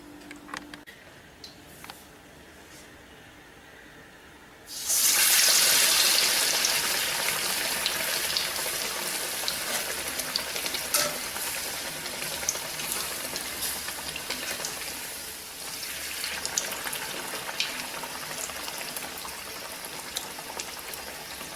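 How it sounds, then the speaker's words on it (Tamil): Bread pakora slices coated in gram flour batter drop into hot oil and fry with a sudden loud, steady hiss and crackle that holds for the rest of the stretch, with no talking. "இப்போ நம்ம எண்ணெயில் போட்டு எடுக்கலாம்"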